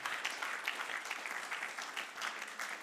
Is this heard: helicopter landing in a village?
no